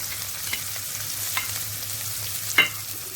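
Onion sizzles in hot oil for a tempering, a steady close crackle with soft low hiss and occasional sharper pops, heard on its own with no talking.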